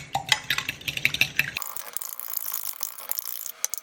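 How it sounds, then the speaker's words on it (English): Eggs and taco seasoning whisked in a bowl, giving a quick run of light metallic clicks and taps that turns into a wetter, swishing sound, close and fairly loud. "And then we're gonna whisk it up."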